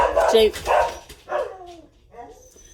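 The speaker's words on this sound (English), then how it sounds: "Now the dogs are going to bark." Indoor dogs bark several times in quick succession, loud and close, then quieter yips and whimpers trail off.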